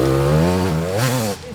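An enduro motorcycle engine revs close by on a practice trail, a loud buzzing tone that dips and rises in pitch across a short burst before easing off.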